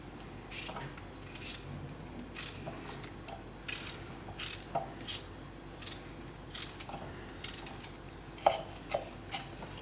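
A peeled cucumber is cut into pieces for a cucumber chutney, giving a series of sharp knife clicks against a board at an uneven rhythm, close and fairly quiet, with no talking.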